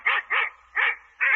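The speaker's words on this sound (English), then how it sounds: "There's that darn wolf dog again." A wolf dog barks in an old 1949 radio mystery drama, four sharp, evenly spaced barks with short gaps between them, close and clear, with no voices during the barking.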